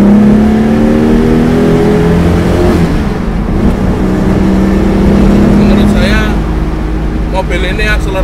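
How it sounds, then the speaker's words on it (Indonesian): A 1974 Holden Belmont engine revs and pulls under acceleration, a rising harmonic drone close by, with people talking over it. "Mobil ini akselerasinya lumayan."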